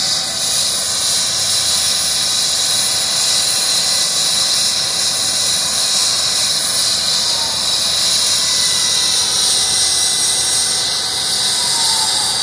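An air ambulance helicopter on the ground in Forest Hill, London, gives off a loud, continuous high turbine whine and hiss that holds steady throughout, with no voices.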